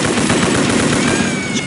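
Rapid automatic gunfire from Ballistic Weapons in Unreal Tournament 2004, a dense, loud, continuous stream of closely spaced shots with game effects ringing over it, filling the whole short stretch without pause.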